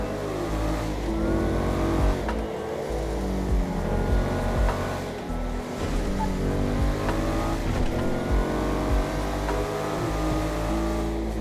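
The Gallivanter Baller ST, a Range Rover Sport SVR Ultimate-style SUV in GTA Online, driving with a continuous loud engine drone that rises and falls through gear changes, close and steady throughout with no talk.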